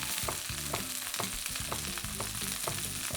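Hunters sausages sizzle and spit in a hot frying pan. The crackling is steady and close, broken by repeated sharp pops, with no talking.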